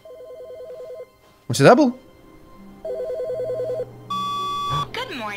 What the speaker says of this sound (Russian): Телефон.